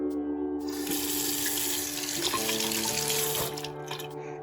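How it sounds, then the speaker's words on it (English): Warm tap water runs steadily from a faucet while a sanded piece is rinsed under it, a close, continuous splashing stream with small changes as the piece moves through the flow. "We'll wash it under the warm water again."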